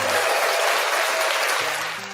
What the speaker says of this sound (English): I didn't give you your hand clap